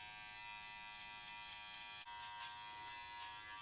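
Novah electric hair clippers hum steadily while trimming hair, a faint, even buzz with a single brief dip partway through.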